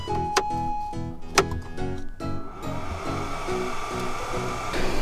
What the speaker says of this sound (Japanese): それではスポットエアコンスイッチ入れます。